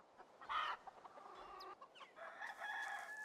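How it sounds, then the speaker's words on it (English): Rooster crowing and hens clucking in the Medieval Dynasty video game, a short crow rising early with scattered clucks and farmyard fowl calls continuing around it, moderately close. "This guy's job is now to try get eggs from a rooster."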